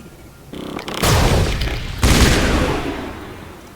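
Gunfire and a grenade blast in the shooter game Mass Effect, with a rattle of shots building to loud, booming bursts and rolling explosions that decay into a heavy roar, no voices.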